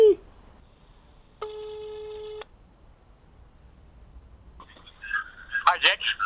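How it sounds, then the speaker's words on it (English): Telephone tones on an outgoing call: one steady, clear ringback tone lasting about a second, then quiet, followed by further tones and brief close voices speaking. "We are calling the man who is saved in my phone as Kamui!"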